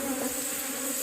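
A huge swarm of about 75,000 angry bees buzzes steadily and densely, a loud close drone that holds without a break.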